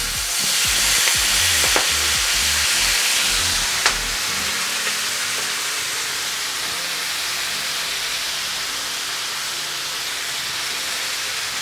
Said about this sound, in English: Going to stir our spinach.